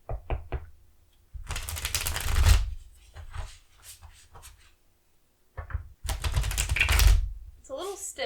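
A stiff cardstock tarot deck is shuffled in two long riffling bursts, with a few soft taps and knocks of the cards between them, close and clear.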